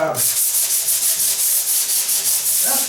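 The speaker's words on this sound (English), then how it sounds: "that's why I kind of like the paddle sander" A paddle sander works along the edge of a door, a loud close rasping scrape with a fast steady pulsing rhythm, no talk.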